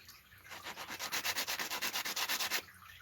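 Hand sanding with a sandpaper block on a small engine carburetor part, a steady run of about fifteen rhythmic back-and-forth rasping strokes, close and loud, alone without talk.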